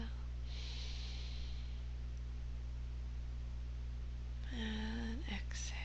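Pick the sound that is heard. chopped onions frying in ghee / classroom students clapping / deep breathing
deep breathing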